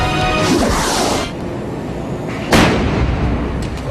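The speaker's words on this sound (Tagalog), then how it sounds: "Ganito kalakas sumabog ang paputok na Goodbye Philippines." An illegal Goodbye Philippines firecracker goes off in a loud, sharp blast with a harsh burst of noise, followed by a second, heavier explosion a moment later, with no voices.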